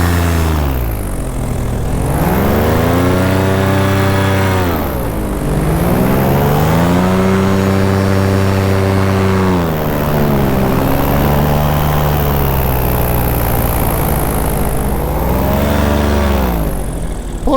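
A paramotor engine drones loudly and continuously in flight on a new motor and wing, its pitch rising and falling in long sweeps as the throttle shifts, with no talking.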